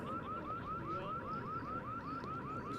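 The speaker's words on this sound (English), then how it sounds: "I apologize for the alarm going off." A car alarm sounds just outside the outfield fence at a high school district baseball game, a steady repeating whooping siren cycling about four times a second, fairly distant and faint against crowd and field ambience.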